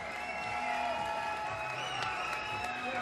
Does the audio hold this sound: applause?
yes